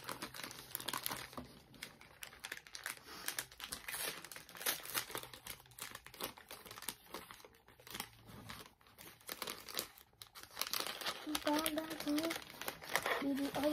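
Plastic packaging from mailed parcels crinkles and rustles steadily as it is unwrapped close by, with a person talking throughout.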